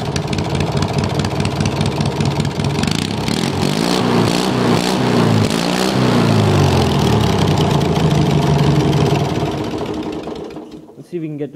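Race lawn mower engine running steadily at a loud, close idle with a choppy, buzzing rhythm, surging slightly midway before cutting out near the end.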